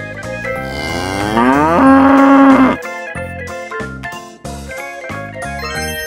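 A cow gives one long, loud, rising moo that holds for a couple of seconds over a bright background music track, which carries on alone afterward.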